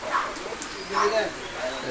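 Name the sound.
domestic pigeons at a pigeon market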